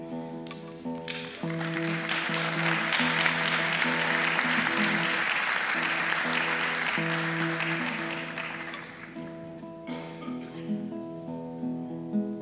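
An audience at a guitar recital bursts into applause, a dense sustained wash of clapping that swells, holds for several seconds, then tapers off while sustained tones ring underneath.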